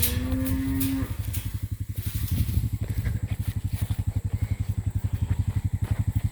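A mob of cattle being sorted on open pasture, with a long low moo close by at the start, then a steady rhythmic throbbing rumble carrying on underneath as the herd moves.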